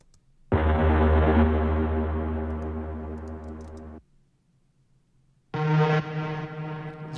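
A pitched-down Reese-style synth horn from a Dave Smith Tetra blares in two long, loud, buzzing tones, the first held several seconds and slowly fading, the second entering after a short gap.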